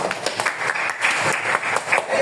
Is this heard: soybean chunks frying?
no